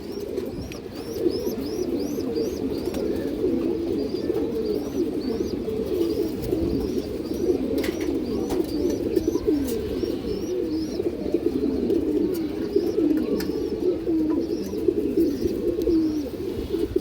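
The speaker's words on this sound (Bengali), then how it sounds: "সিলভার বাঘার নর কবুতর" A silver Bagha male pigeon coos in repeated soft, rolling phrases over a dense, steady murmur of other pigeons cooing close by.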